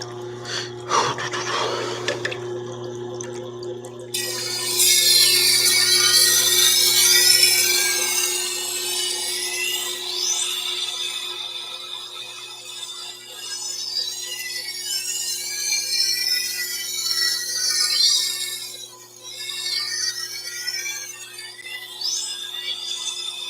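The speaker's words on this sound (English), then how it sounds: "chef's knives are so fun to sharpen on this" A chef's knife is ground on a sharpening machine: a motor hum starts, then a loud, continuous scraping whine with sweeping tones rises and dips as the blade passes across the wheel, with no talking.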